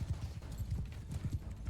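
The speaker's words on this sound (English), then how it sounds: "there's not a bunch we can do about this many horse archers" Horse archers gallop in the medieval combat game Mount and Blade II: Bannerlord, their hooves drumming in a quick, steady clip-clop rhythm at moderate volume with no speech over it.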